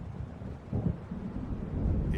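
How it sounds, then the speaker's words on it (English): Low rolling thunder from an approaching storm in the video game Alan Wake Remastered rumbles faintly in the distance, swelling slightly midway and again near the end, with no voices. "It seems there's a storm coming."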